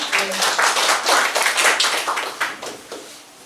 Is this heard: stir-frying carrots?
no